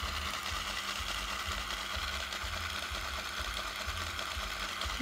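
Small electric motor of a LEGO tractor running steadily on its own, a continuous dense mechanical whir with a faint rhythmic pulse, close and even in level throughout.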